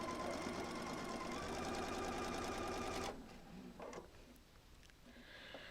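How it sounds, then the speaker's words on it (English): A sewing machine runs in one quick continuous burst as it stitches a quilt block, a Kite and Bowtie piece, then stops abruptly, leaving a few soft handling clicks and quiet room noise. "I'm ready to go to the sewing machine"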